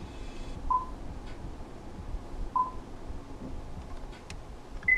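A 2017 Honda Accord 2.0 VTi infotainment system plays phone dialing tones: three or four short, clean beeps spaced about two seconds apart over a quiet background hum, with no talk.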